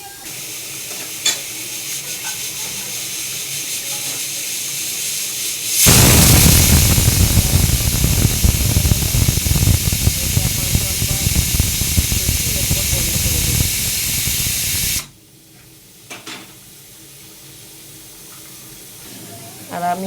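Mutton simmering in a covered pot while being boiled with hot water, giving a loud, steady hiss of steam and sizzling at close range for several seconds before abruptly dropping to quiet.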